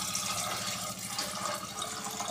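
Water pours steadily into a pressure cooker holding peas, a continuous close splashing, filling sound with no talk over it.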